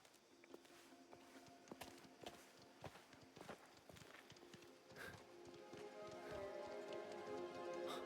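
Horse hooves clip-clop at a steady walking rhythm in the video game Mafia: The Old Country, close and fairly quiet, with faint ambient tones and a low rumble building toward the end.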